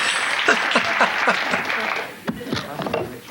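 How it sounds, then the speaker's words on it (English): A studio audience applauds and cheers on a late-night comedy show, a bright wash of clapping with sharp whoops rising over it, close and lively, then thinning toward the end. "The crowd goes crazy."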